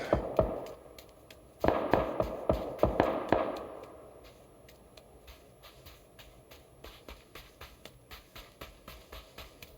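Sharp repeated gunshot bursts from a battle royale shooter game, a quick cluster of loud cracks early on, then a slower run of fainter evenly spaced shots trailing off.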